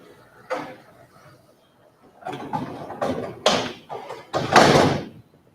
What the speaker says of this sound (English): I might just bring that door down.